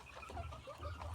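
Hen clucking up close in a steady run of short low calls, a Burmese laying hen kept in a backyard flock.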